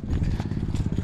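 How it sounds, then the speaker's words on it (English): A dirt bike engine revs up close, giving a loud, steady, throbbing run with a fast pulsing beat across the short burst. "I gotta get some revs for my video"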